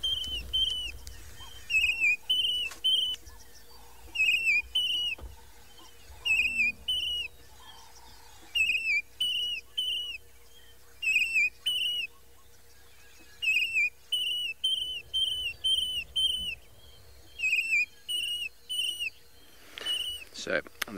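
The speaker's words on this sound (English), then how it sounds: "here's the call of a yellow-throated longclaw" Yellow-throated longclaw call played back from a phone app in the Maasai Mara, a repeated series of clear, high whistled phrases in a steady rhythm, moderately loud over faint background noise, continuing for around twenty seconds.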